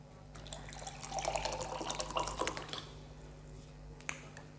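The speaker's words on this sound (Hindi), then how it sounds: "ये हमारा आरओ का पानी है जो नॉर्मल टेम्परेचर का है।" Room-temperature RO water is poured into a glass holding a tea bag, a close, bright splashing trickle lasting a couple of seconds before tapering off, followed by a small clink.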